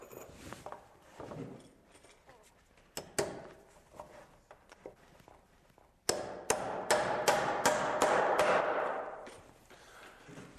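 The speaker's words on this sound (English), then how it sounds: "I'm going to nail my carriage to that 2x4." Hammer blows drive nails through a wooden stair carriage into a 2x4 spacer. The sharp, close strikes come in irregular bursts, sparse at first and then a rapid run of loud hits.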